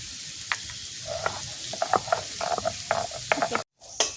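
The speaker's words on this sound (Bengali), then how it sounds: "এবার কিন্তু আমি রসুনটা বেঁকে নেব" Garlic frying in a pan for a Bengali rohu fish and eggplant curry, heard as soft close sizzling with scattered crackles and light spoon taps. A brief silence near the end is followed by one more crackle.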